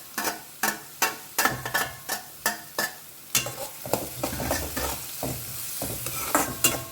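Chopped capsicum sautés in a pan for pav bhaji, with a loud, close sizzle and regular scraping stirs of a spoon against the pan, rhythmic at first and then busier.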